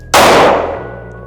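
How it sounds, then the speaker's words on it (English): A single loud, close Smith & Wesson M&P 5.7 pistol shot fired at a steel target 5 yards away, a sharp metallic crack and clang that rings out and fades over about a second. "Here's me at 5 yards shooting at the number 2 target on the top left."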